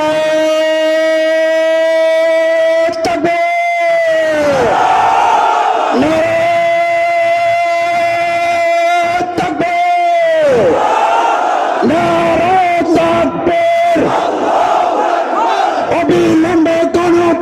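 A large crowd at a political rally chants a single slogan in loud, repeated call-and-response waves of voices, with brief pauses between the shouted phrases.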